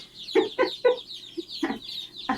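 New homestead chickens of a dual-purpose breed clucking up close, a quick run of three sharp clucks followed by a softer one and more clucks, in a quiet setting.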